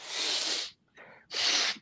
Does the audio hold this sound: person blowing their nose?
yes